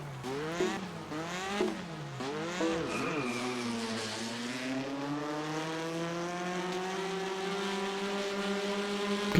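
Touring car engines drone and rev in an iRacing Arcade race, with sliding pitch sweeps as gears change early on, then a steady loud engine note that holds to the end, with no talking.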